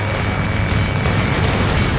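A ship sinking during a naval battle in Ace Combat Assault Horizon gives off a loud, sustained explosive roar, a dense rumbling blast that fills the whole moment without letup and without any talk.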